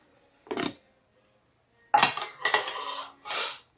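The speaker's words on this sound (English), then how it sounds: "we're going to take our hot fettuccine and we're going to put it right in our frying pan with our shrimp" Hot fettuccine dropped into a frying pan with shrimp for shrimp scampi, giving a short metallic clatter, then a pause and a busier run of scraping, clinking pan-and-utensil tossing in two bursts, close and moderately loud.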